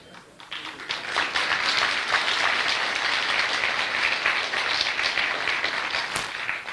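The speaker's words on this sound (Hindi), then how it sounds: "ताली बजा रहे हैं इस बात पे" An audience claps together, the applause swelling within the first second into a dense, sustained patter that stays loud and steady, with no talk over it.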